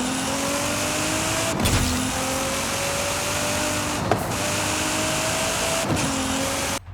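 A truck engine idles and hums steadily with a limiter on, its tone rising gradually and dipping in three repeated cycles, fairly quiet and with no talking.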